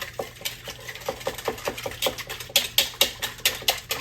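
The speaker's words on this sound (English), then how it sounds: "we're gonna mix these eggs up here" Eggs whisked by hand in a bowl for a pecan pie cobbler, a quick steady run of close clicking, tapping strokes against the bowl, growing a little louder toward the end.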